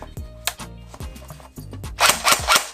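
JG Star Dragon airsoft gun test-fired indoors, several sharp mechanical clacks in an uneven sequence with short pauses, then a louder burst of hissing, rattling noise at the end.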